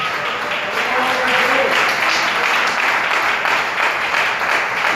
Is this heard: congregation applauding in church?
yes